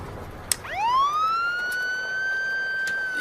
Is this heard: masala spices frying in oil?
no